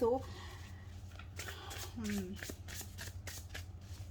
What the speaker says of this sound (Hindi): पहले हम शफलिंग कर लेते हैं।